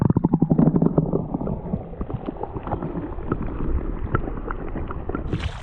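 Water gurgles and sloshes around a camera dipping underwater over a shallow sand flat, starting with choppy splashing bursts, then a muffled, bubbling underwater churn.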